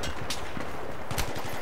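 Gunfire in the Battlefield 3 video game, a dense chaotic firefight with repeated sharp shots and bursts over a constant roar of battle noise.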